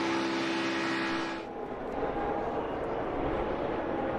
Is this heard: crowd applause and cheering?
no